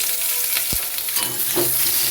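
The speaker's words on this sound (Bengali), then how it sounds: "আলুর সাথে পটলটা লাল করে ভেজে দিচ্ছি।" Long-cut potatoes and pointed gourd frying in hot oil in a pan, a dense continuous sizzle with a few knocks and scrapes of stirring, close up and fairly loud.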